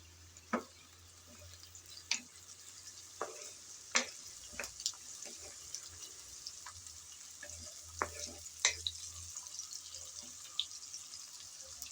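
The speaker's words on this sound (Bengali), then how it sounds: "এই পেঁয়াজ নেড়েচেড়ে ভালোভাবে ভেজে নিতে হবে।" Chopped onions stirred and fried in a pan, a steady soft sizzle broken by sharp scraping strokes of the spatula every second or two, close and fairly quiet with no talk.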